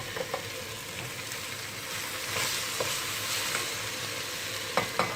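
Madımak greens stirring and sautéing in a hot pan, a steady close sizzle with occasional soft scraping clicks of a spoon, no voices.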